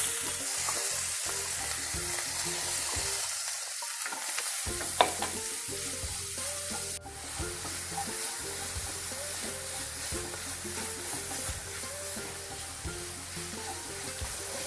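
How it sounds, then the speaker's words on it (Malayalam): Crushed coconut mixture frying with dried red chillies in a pan for a green gram and elephant yam thoran, a continuous loud sizzle with stirring scrapes and a sharp clatter partway through. "ഞാൻ ഈ ചതച്ച് കൊണ്ടുവന്നിട്ടുള്ള നാളികേരക്കൂട്ട് ഇട്ട് കൊടുക്കുന്നുണ്ട്."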